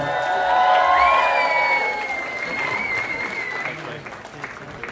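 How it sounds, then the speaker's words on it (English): Wedding reception guests give the couple a big round of applause as they head to the dance floor for their first dance, loud clapping mixed with cheers, whoops and some sustained tones, fading toward the end. "Let's give them a huge round of applause."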